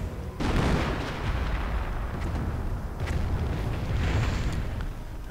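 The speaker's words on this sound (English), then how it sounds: "More glorious Nebelwerfer fire." Nebelwerfer rocket artillery fires in a World War II strategy game, a sustained roaring barrage of rumbling launches and distant booms that swells repeatedly over several seconds, with no voice over it.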